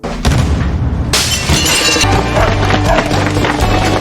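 Glass breaking during a house robbery at a luxury home, a sharp shattering crash followed by a second burst of breaking glass, loud and close, with low music-like tones underneath.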